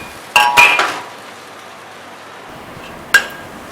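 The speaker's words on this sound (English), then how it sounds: "Stir fry over high heat for 15 seconds." Beef and scallions are stir-fried over high heat in a wok, with a few sharp metal clanks of the utensil against the pan in two short bursts over a low background hiss.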